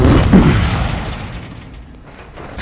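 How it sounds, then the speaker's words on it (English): A stun grenade goes off during a video-game firefight: one loud, deep boom that rumbles and slowly fades, with another heavy thud starting just as it ends. "Stun grenade out!"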